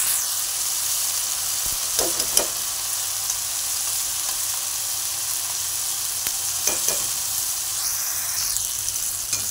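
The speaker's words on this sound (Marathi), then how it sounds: "हे सर्व एकत्र भाजून घ्यायचं आहे चांगलं" Green chili paste and tomatoes roast together in a pan for a dried Bombay duck chutney. A constant close sizzle runs throughout, broken by a few sharp spoon scrapes and clicks from stirring.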